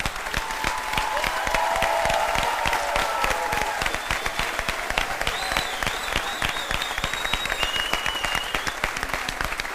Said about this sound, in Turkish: Hepimiz bu yolda onu alkışlıyoruz.